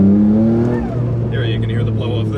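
A 2005 Noble M12 sports car lets off the throttle, and its engine note drops away into a sharp hissing chatter from the blow-off valve, heard up close as the car moves slowly.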